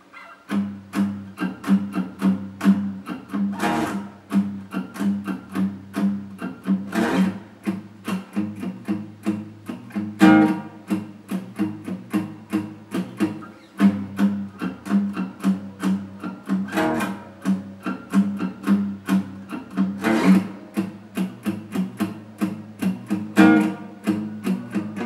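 Palm-muted electric guitar riff from a song, a steady chugging run of short choppy chords broken up by periodic accented strums, played solo and up close for about twenty-five seconds.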